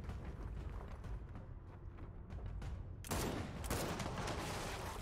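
Gunfire in the video game Gears of War 4 rumbles as dense, muffled bursts with no individual shots standing out, growing louder and harsher partway through.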